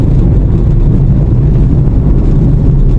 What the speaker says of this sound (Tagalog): Ayan puno ng sasakyan mga agawad.